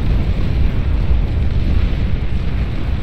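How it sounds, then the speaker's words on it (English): A massive nuclear strike detonating in the real-time strategy game Beyond All Reason, a loud, sustained low-frequency rumble and roar that fills the whole stretch without letup. "Got a big nuke landing right there."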